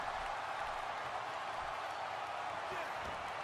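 A steady, loud roar of crowd noise fills an arena in a WWE wrestling video game during a match on the Night of Champions card, a continuous wash of cheering with no break.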